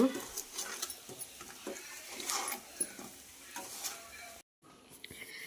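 Chicken pachadi with chili powder and salt is stirred in a pan, soft scraping and a light sizzle heard under brief talk, with a short dropout near the end.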